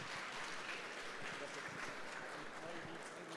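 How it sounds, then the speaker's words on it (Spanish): Audience applause at a medical expo workshop session, a steady, fairly faint wash of clapping lasting a few seconds without clear breaks. "Un aplauso, por favor."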